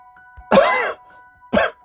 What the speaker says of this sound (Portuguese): Aí uma tosse pra vocês.